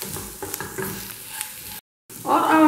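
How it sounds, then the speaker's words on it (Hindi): Spices frying with salt in a pan for pumpkin sabzi give a short sizzle with stirring scrapes, then a brief silent cut, followed by a voice. "इन सभी मसालों को हम अच्छे से मिक्स कर देते हैं और इनको हम कुछ सेकंड्स के लिए फ्राई कर लेते हैं"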